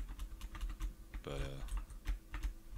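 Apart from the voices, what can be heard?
computer keyboard space bar clicking while playing Robocraft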